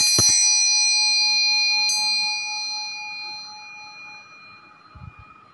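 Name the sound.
bell ringing to mark brewing water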